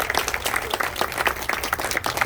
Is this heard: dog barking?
no